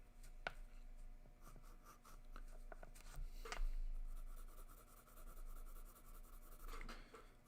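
Dark graphite pencil shading on paper: soft, close scratching and brushing strokes in short, irregular bursts over a low, steady background hum, with no voices.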